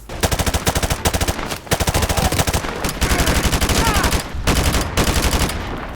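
Rapid automatic gunfire from the Call of Duty: Modern Warfare 2 Remastered campaign, loud sustained bursts with brief pauses, layered with dense battle noise.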